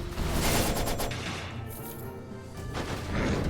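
Dense bursts of explosions fill the scene in the roguelike action game Skul: The Hero Slayer, loud and continuous with crashing impacts and a rapid-fire crackle that swells again near the end.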